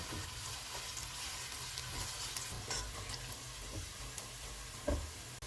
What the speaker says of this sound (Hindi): ऑयल गर्म हो गया, इसमें प्याज डालेंगे, इनको गोल्डन ब्राउन फ्राई करेंगे